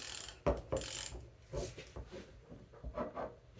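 A ratchet wrench with a 12mm socket clicks in short, close bursts while tightening a part during a dual piston brake booster delete on a Lexus IS300, with faint rubbing between strokes.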